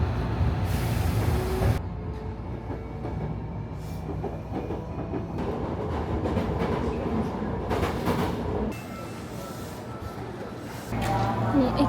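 A train rumbles loudly past at close range through a narrow Hankyu Railway station platform, with steady clatter of wheels on rails and some talk mixed into the noise.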